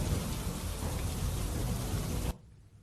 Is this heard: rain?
yes